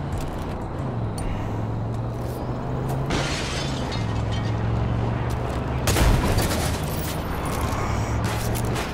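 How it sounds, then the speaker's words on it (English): Gunfire in Far Cry 5 shot from inside a van, dense bursts and shattering impacts over a steady engine drone, a sharp loud crack near the middle, with brief talking. "it sucks shooting out of a van because I don't have much of a fucking line of sight"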